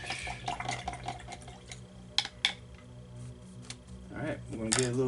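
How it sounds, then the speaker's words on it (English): A paintbrush swishes and clinks in a water container during acrylic painting, soft sloshing and tapping at moderate volume with a few sharper knocks against the rim. "Wash that brush."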